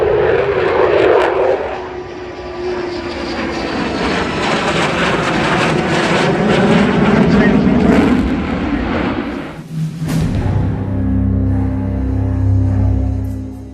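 Loud, sustained roar of McDonnell Douglas F-15 Eagle fighter jet engines, with a rising and falling whine as the aircraft passes close, ending in a deep rumble.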